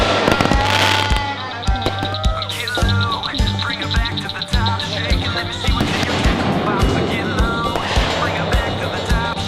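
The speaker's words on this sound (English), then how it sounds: "set them out on a pontoon boat with a bunch of explosives and tell them to shoot them up in the air" Fireworks shot into the air from a pontoon boat crackle and pop in dense rapid bursts, with whistles and booming thuds over a continuous noisy din, loud and near, mixed with crowd voices.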